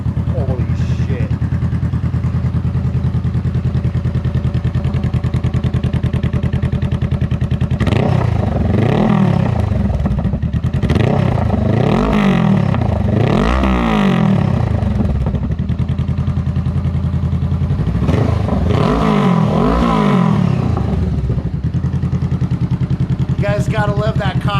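Honda CB500F motorcycle with an inexpensive Compton slip-on exhaust and the catalytic converter still fitted, idling roughly and then revving hard in several sharp bursts, loud and close, with a brief second round of revs near the end.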